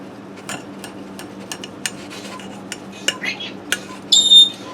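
A knife and fork clink and scrape against a plate while cutting into a Korean pork chop, a series of sharp, separate taps and scrapes close by with a ringing clink at the end.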